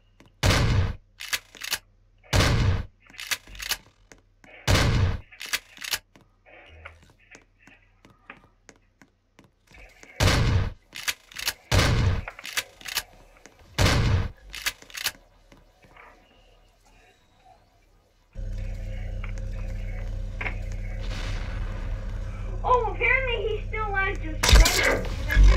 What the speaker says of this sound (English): Let's check out this shotgun.